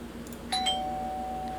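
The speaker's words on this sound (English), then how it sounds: "The doorbell rings once again, but you don't respond." A single doorbell chime in an interactive horror story video game, one bright two-tone ding followed by a sustained ringing tone that fades slowly over a low background hum.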